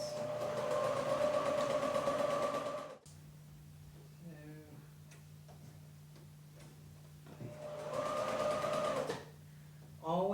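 A sewing machine stitches quilt strips in two steady whirring runs, one at the start and one near the end. Between them is a quieter stretch of soft handling clicks and ticks.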